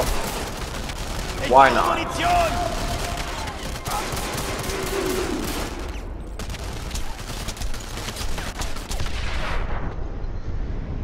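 Battle gunfire from Enemy Front's siege of St. Cross, with dense, continuous shooting and explosions in the background and someone talking over the din.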